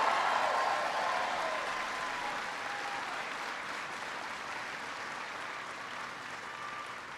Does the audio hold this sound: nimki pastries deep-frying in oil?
no